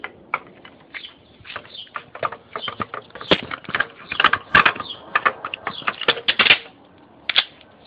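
Rapid clicking and clattering of metal parts as a die is snapped into a manual pipe threader rated for 1/8 to 2 inch pipe, a close, uneven series of sharp mechanical ticks with brief pauses.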